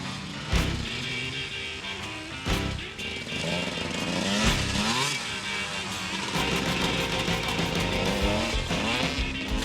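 Motocross bikes ringing out around an off-road course, buzzing two-stroke engines revving and shifting as several machines pass near and far, continuous and fairly loud.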